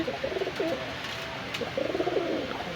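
Two bursts of throaty pigeon cooing, close and moderately loud, separated by a short pause over a soft background hiss.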